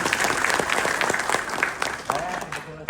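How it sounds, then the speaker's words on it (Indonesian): An indoor audience applauds for a pastor from North Toraja, a dense steady clapping wash that holds at an even level, with brief voices emerging near the end. "Tepuk tangan dulu buat beliau."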